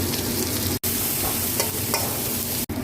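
Chopped onion frying in hot oil after the spice tempering, a steady close sizzle with a few light stirring ticks, no one speaking.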